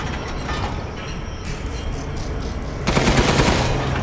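Rapid machine gun fire in the video game Resident Evil Village, a dense mechanical rattling burst that grows louder and harsher near the end, with no talking.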